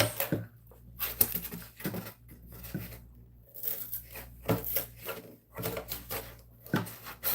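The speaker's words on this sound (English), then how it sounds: "see if I can't just cut this part out with the scissors" Quiet, irregular snips and rustles of scissors cutting through material, short bursts separated by pauses, close by.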